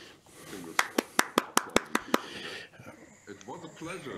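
A conference panel moderator claps his hands alone, about eight crisp, evenly spaced claps close to the microphone, followed by him speaking.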